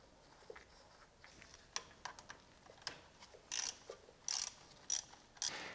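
Reinstalling the front differential drain plug, its threads wrapped in sealant tape, on a 2017-2020 Ford F150 Raptor: quiet ratcheting clicks and mechanical ticks, irregular and close, with sharper bursts toward the end.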